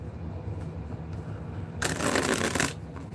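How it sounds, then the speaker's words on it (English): A deck of cards is riffle-shuffled close by in one quick burst of about a second, after a quieter stretch of low room noise. "See the way they shuffle."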